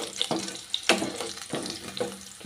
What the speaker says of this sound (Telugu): ఇదంతా కూడా ఆయిల్లో చక్కగా ఫ్రై అవుతున్నాయి